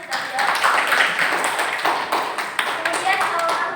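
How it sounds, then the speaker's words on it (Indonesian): Students in a classroom clap for a classmate who has just answered, a few seconds of mixed hand claps with a voice speaking over them. "Tepuk tangan dulu untuk teman yang sudah jawab."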